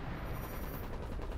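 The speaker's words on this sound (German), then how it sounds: "So, Bunker schießt sehr schön." A bunker gun in the video game Generation Zero fires a dense, continuous stream of shots, heard faintly and at a distance with no voices.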